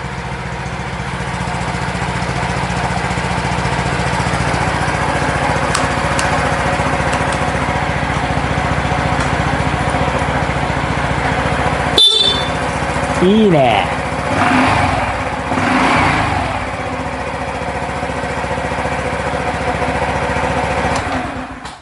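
A Honda DAX125 motorcycle engine idling steadily in an enclosed garage, with a brief sharp click partway through followed by a few short revs; people talk over the running engine.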